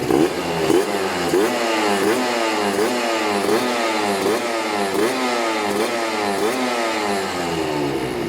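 A Kawasaki ZX150 motorcycle engine is revved repeatedly by hand throttle, loud and close, rising and falling in a steady rhythm of about a dozen quick blips with a raspy two-stroke buzz.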